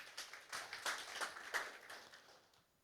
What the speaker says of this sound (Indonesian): Kasih tepuk tangan buat Tuhan Yesus dong.